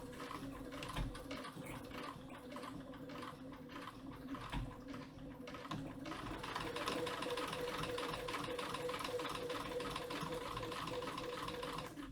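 A foot-pedal sewing machine stitching a seam runs continuously with a fast, steady mechanical chatter and hum, close up, gaining slightly in speed and loudness partway through.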